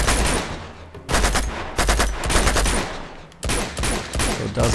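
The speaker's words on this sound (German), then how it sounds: "Die schießen aber teilweise gut" Bursts of enemy gunfire in the game Uncharted 2, loud and close, arriving in repeated rapid volleys separated by brief pauses, with no voices over it.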